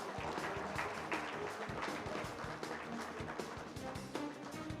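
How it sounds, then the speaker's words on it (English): Audience applause at a management association's annual convention, a steady dense wash of clapping from a large crowd that holds throughout without pause. "Can we have a round of applause, ladies and gentlemen?"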